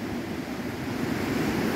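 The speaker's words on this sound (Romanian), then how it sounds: "Acesta este râul Cumbu, care străbate valea." Cumbu river rushing through a Himalayan valley, a broad continuous roar of flowing water with some wind buffeting, moderately loud and steady, no voices.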